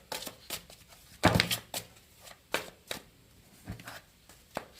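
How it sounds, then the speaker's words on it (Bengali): Tarot cards shuffled and drawn in a series of soft, papery slaps and flicks, one louder riffle burst in the middle, close up with no talking. "প্লিজ অ্যাঞ্জেল, আমি আর 2টো কার্ড নেব।"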